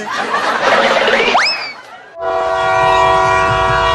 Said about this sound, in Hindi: वो पागल लड़का ट्रेन चुरा कर भाग रहा है।